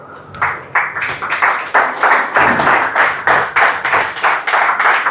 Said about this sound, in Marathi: सगळ्यांनी परत एकदा शौर्यांसाठी जोरदार टाळ्या